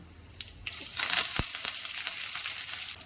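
Dried red chillies and curry leaves hit hot oil already holding popped mustard seeds and urad dal, a bright, loud sizzle that flares up with sharp crackles and spits, then settles into steady frying, close and without talk.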